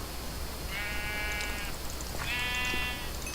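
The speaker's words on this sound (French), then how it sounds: "Oh, je l'ai giflé le mouton" A sheep in the video game Sky bleats after being slapped, two drawn-out wavering bleats a moment apart, clear over a soft ambient background with no talking.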